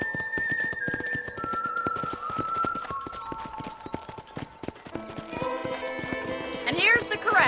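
Horse hooves clip-clopping at a steady trot in the Red Dead Redemption game, a dense run of sharp, evenly spaced hoofbeats near and clear, with music and a voice joining toward the end.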